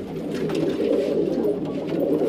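A loft of fancy Jogiya pigeons, including red Jogiya breeds, produces a continuous, dense, low cooing drone from many birds at once, steady and fairly loud with no speech over it.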